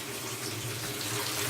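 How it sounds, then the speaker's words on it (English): Water pours steadily into a washing machine drum filling for a large load of darks, a constant close rushing hiss with no voices. "go ahead and start putting water in the machine"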